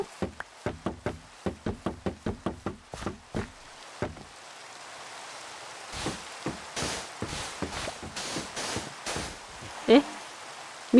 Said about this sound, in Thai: แค่แบบถึงเวลาปุ๊บเขาก็ขุดปั๊บเราก็ได้ยินเสียงดังป๊อก